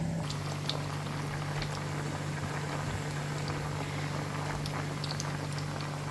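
Pot of water at a rolling boil with spaghetti tossed in, a steady close bubbling hiss with a low hum beneath and occasional small pops, no talking.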